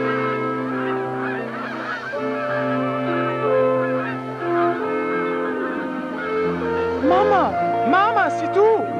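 Animated swans honk repeatedly as they fly in a flock, a dense layered chorus of nasal calls that carries steadily throughout and rises into sharper, louder honks near the end.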